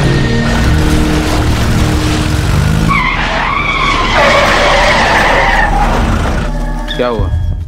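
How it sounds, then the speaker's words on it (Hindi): A car skids after a tyre puncture in a Hindi crime drama scene, giving a loud tyre screech that lasts a few seconds over a steady, dense background of engine rumble and dramatic sound. "हमें लगता है गाड़ी का टायर पंचर हो गया है।"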